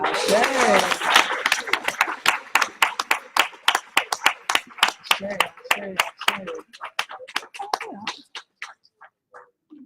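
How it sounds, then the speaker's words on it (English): At a live-streamed conference session on Black spirit and African dance, a voice speaks briefly before a long run of sharp, evenly spaced claps that gradually thin out, soften and slow to scattered final claps. "let's give one more round of applause"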